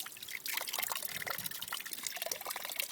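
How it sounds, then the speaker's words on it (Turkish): Cold forest stream water flowing steadily beside a duck pond, a continuous close trickling and splashing with no voices. "Ve su sesiyle son veriyoruz."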